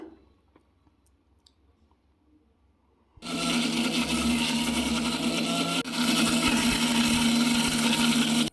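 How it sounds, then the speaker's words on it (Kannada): A mixer grinder whirs loud and steady as it grinds ginger and garlic into a paste for mushroom biryani. The motor kicks in abruptly after a few quiet seconds and runs close and continuous to the end, with a brief dip midway. "ಚಂದ ಮಾಡಿ ಗ್ರೈಂಡ್ ಮಾಡಿ, ನೈಸ್ ಪೇಸ್ಟ್ ಆಯ್ಕೆ"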